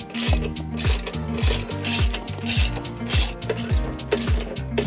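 A hand ratchet clicks rapidly and steadily while loosening 13mm exhaust hanger bolts on an Audi RS3 during an exhaust install, with repeated back-and-forth strokes up close and no talk.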